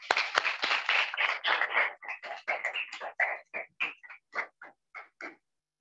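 An audience at a Hindi literary award event applauds to welcome the poet Ashok Chakradhar, starting as dense clapping that thins into scattered separate claps and stops after about five seconds.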